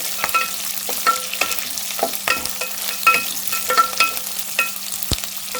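Okra frying in oil in a pan while being stirred, a steady close sizzle with repeated scraping stir strokes and light clinks.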